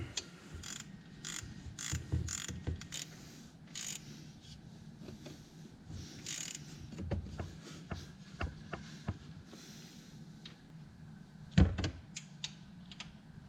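A ratchet tightens a new alternator bolt on a 1999-2007 Chevy Silverado, producing quiet bursts of rapid clicking with short pauses and a sharper clank near the end, fairly close and with no voices.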